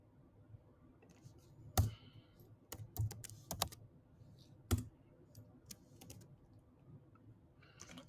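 Computer keyboard typing in Xcode: scattered bursts of sharp key clicks with uneven pauses, fairly close and quiet, with no one talking.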